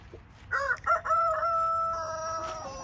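A rooster crows loudly nearby, a long drawn-out call, with some brief clucking and soft barnyard noise underneath.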